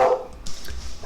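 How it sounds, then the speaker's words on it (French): Dogs bark briefly and close by, a short burst of yelps over a low background rumble, with no talking. "je vais couper le volume des chiens"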